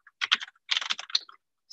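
Fingers typing on a computer keyboard in quick bursts of clicky keystrokes, a short pause between flurries, close and clear with no talk.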